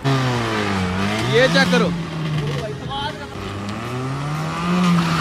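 A car engine revs hard through its exhaust, climbing and dropping in pitch in two bursts, loud and close, while someone briefly speaks over it.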